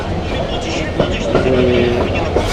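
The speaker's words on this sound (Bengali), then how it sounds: "চটল এক্সপ্রেস পাঁচ নম্বর প্ল্যাটফর্মে দিয়েছে" The Chattala Express, running from Chittagong to Dhaka, sits at platform five of a busy railway station, with loud rail rumble, a few metallic clanks and a brief tonal squeal, and voices murmuring in the background.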